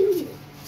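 A single brief low coo from a pigeon, close and soft, fading quickly into quiet.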